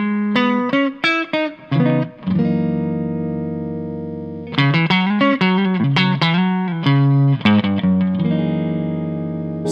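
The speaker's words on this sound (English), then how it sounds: "So we're going to start with a really nice clean sound." A Telecaster played with a clean tone through a Victory Deputy compact amp head with gain down, bright switch off and reverb mid-set. Sustained ringing notes and chords pause briefly, then resume with a fuller strummed passage. No talking.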